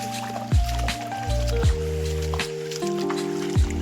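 Footsteps wading through water on a forest stream path, with splashing and sloshing at a slow, steady walking pace, close by.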